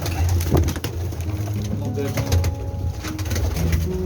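Several pigeons in a breeding setup in Pakistan coo steadily in low, soft rolling calls, with faint background noise and occasional rustling throughout.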